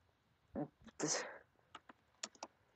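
Short bursts of computer keyboard typing during a Minecraft Mineplex game session, a few separate clicks spread out, with laughter and speech mixed in.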